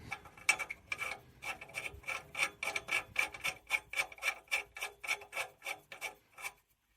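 An O2 sensor defouler on a Nissan 350z being tightened and refitted, producing a fast, even train of close ratcheting clicks and rasps that speed up then stop, with no talking.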